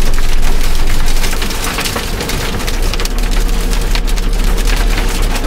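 Hail falling during a storm on a washed-out mountain pass road, a dense, loud pelting and crackling that stays steady throughout with no one speaking.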